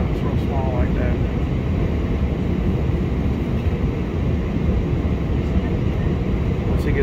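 A small business jet takes off, heard as a loud, continuous, broadband roar that stays steady from start to finish.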